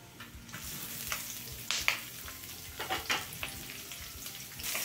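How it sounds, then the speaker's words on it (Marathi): Onion frying in oil with cashews and peanuts for a vermicelli vegetable upma gives a steady close sizzle, broken by a few louder crackles and stirring scrapes. "यावरती आता आपण घालूयात कांदा"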